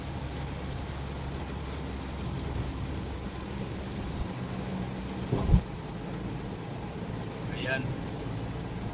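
Heavy rain with traffic noise on the Skyway expressway near Paranaque during a storm, a steady broad wash throughout with a brief louder thump or splash just past the midpoint and a faint higher tone near the end.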